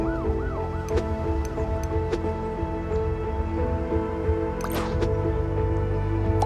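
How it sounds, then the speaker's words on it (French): Wailing police car siren in the Roblox game Time Travel Tycoon, a steady rising and falling tone that runs through the whole stretch over a dense musical game soundtrack, with one brief splashy burst near the end. "La sirène de police."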